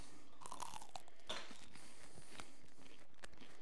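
Crisp, crunchy chewing of pizza close to the mic, a few irregular bites and crunches over quiet background.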